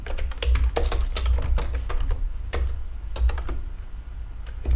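Fingers type a command on a computer keyboard with quick, close, irregular key clicks over a low hum.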